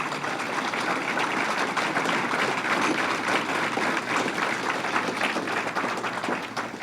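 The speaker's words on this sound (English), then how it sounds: "So give New York a round of applause." A crowd applauds at an outdoor state fair speech, the New York State Fair, with broad continuous clapping that holds steady and evenly loud throughout, no voice over it.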